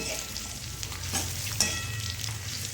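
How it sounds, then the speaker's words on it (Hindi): Red and green capsicum fry with mixed vegetables in a pan for a restaurant-style mixed veg dish, giving a steady, moderate sizzle broken by a few stirring scrapes and clicks. Nobody speaks. "थोड़ी सी लाल शिमला मिर्च और थोड़ी सी हरी शिमला मिर्च। इन्हें भी हम सब्जियों के साथ में भून लेते हैं।"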